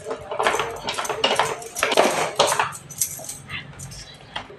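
A kitchen knife splits a whole ash gourd at home, giving a run of sharp knocks, cracks and clattery scrapes against the board, close and moderately loud, with quieter handling sounds afterward.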